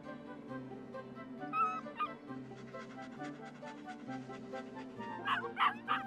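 Puppy yipping, barking and whimpering close by, with repeated short cries over steady background music in an animated scene.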